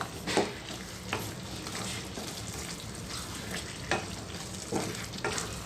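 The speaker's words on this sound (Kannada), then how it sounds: "ಎಣ್ಣೆಯಲ್ಲಿ ಇದೆಲ್ಲ ಚೆನ್ನಾಗಿ ಸ್ವಲ್ಪ ಫ್ರೈ ಆಗಬೇಕು" Tamarind and chili powder fry in hot oil for an ivy gourd (tondekai) pickle, giving a steady close sizzle broken by a few sharper scraping stirs, with no talking.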